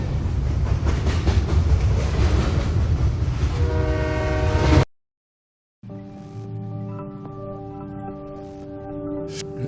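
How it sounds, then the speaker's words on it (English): A cartoon train rumbles and clatters steadily, then sounds its horn in sustained tones, with a brief silence before the horn returns more distantly. "the episode ends with a faint sound of a train approaching, getting louder and louder"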